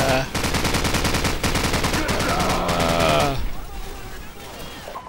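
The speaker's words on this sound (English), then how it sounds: "Hit their flight with their machine gun. Oh, machine gun time." Machine gun fire in the Call of Duty 4 video game, dense rapid bursts for about three seconds mixed with loud game music and effects, then tapering into quieter ambience.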